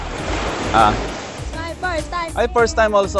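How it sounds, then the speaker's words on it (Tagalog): Ocean waves wash in a steady background hiss at Dinadiawan beach in Aurora, partly masked by people talking up close over them. "Nakaka-relax yung tunog ng mga alon."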